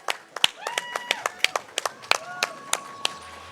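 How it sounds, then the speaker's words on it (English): Scattered claps from a small audience at a live speedrun event, irregular and fairly sharp, mixed with ringing electronic game tones and chimes playing alongside. "Clap for that."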